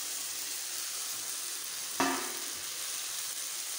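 Parboiled peas and potatoes fry in spice masala for a ghugni peas curry, with a faint, even sizzle. A brief thump and splash land midway as more go into the pan, and no one speaks.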